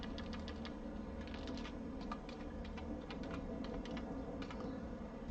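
Quick, light keystrokes tap away on a computer keyboard in an irregular rhythm, close and fairly quiet, with no voices.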